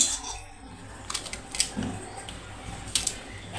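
Broad beans being chopped into one-inch pieces on a board, a few sparse knife taps and clicks at irregular intervals over a quiet background.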